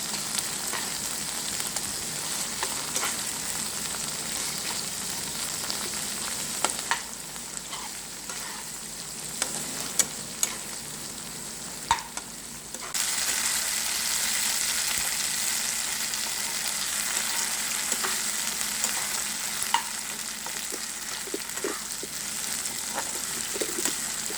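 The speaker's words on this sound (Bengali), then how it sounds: "তো মশলাটাকে আমি খুব ভালো করে কষিয়ে নেব।" Ground spice paste with coriander, red chilli paste and chopped tomato is sautéed in hot oil, giving a continuous close sizzle with scattered crackles and occasional stirring scrapes throughout.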